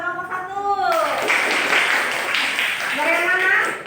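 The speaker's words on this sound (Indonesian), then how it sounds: "Iya, tepuk tangan buat kelompok 1." Students in a classroom applaud group 1 with a brief burst of clapping, framed by a teacher's voice speaking at the start and end.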